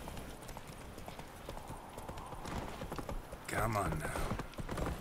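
Hoofbeats of the horse Roach in The Witcher 3 clop along in a steady rhythm, growing louder and busier near the end, with a voice speaking briefly over them.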